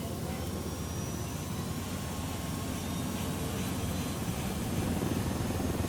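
A helicopter in the video game Ghost Recon gives a continuous, even rotor and engine drone that holds at a steady level throughout, close and unbroken.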